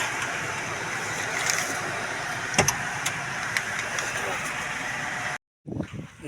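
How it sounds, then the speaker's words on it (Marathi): A car pulls up at a riverside ashram, its engine a steady moderate rumble that holds for several seconds before cutting off abruptly, followed by faint shuffling. "गाडी आली बघा"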